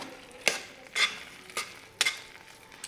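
Carrot halwa is stirred and sautéed in a pan over medium heat, with four or five separate spoon scrapes and clinks over a low, quiet sizzle.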